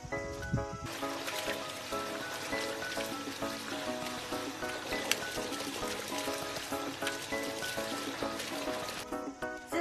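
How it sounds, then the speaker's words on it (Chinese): Freshly pulled, dirty radishes washed in water on a rural farm, with continuous running and splashing water, trickling and pouring close by, over a background of music. "现在已经把这个萝卜已经清洗干净了"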